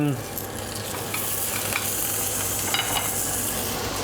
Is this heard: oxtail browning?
yes